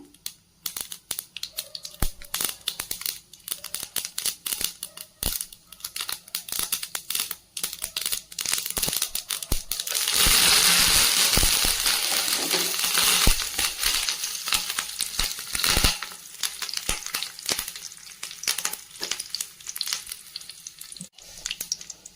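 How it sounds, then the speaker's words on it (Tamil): Mustard seeds splutter in hot sesame oil, a dense, steady crackle of tiny pops and sizzling that swells louder midway before easing back to scattered popping, with no talking. "நல்லெண்ணெய் ஊற்றிட்டு கடுகு போடுங்க. கடுகு பொரியட்டும்."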